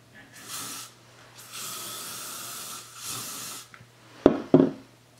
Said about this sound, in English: I'll spray it this way.